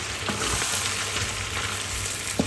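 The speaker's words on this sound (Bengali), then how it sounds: "আমি আসলে একটু দেশের কোরবানির মাংস সেটা হচ্ছে ভাজি করতেছি" Qurbani meat frying in a pan, a steady dense sizzle with occasional soft clicks of a utensil, close and fairly loud throughout with no talk.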